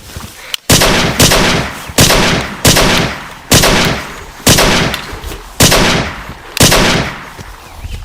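Seven loud, sharp gunshots ring out one after another at roughly one-second intervals, each with a reverberant tail, as part of a film scene.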